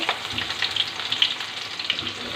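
Onions hit hot oil with bay leaf, cardamom and cinnamon for a liver bhuna, producing a loud, crackling fry with sharp spits and pops over a constant hiss.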